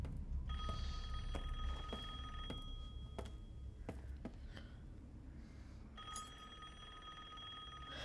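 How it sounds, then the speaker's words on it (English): A telephone rings in the horror video game Resident Evil Village: a burst of ringing early on, a pause filled with quiet thuds and ambience, then the bell starts ringing again, fairly faint, with no talking. "A phone ring."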